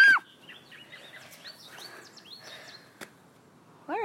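Several birds call outdoors. Loud, rising whistled notes come close by at the start and end, with quieter chirps and tweets scattered in between and one sharp click partway through.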